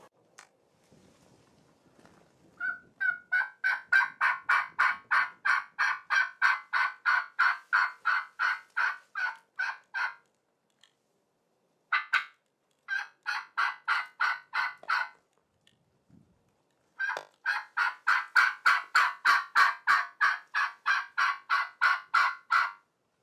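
Wild Merriam turkeys in a Nebraska field give long runs of rapid, rhythmic pulsed calls in three separate bursts with short quiet gaps between, fairly loud against otherwise quiet open ground.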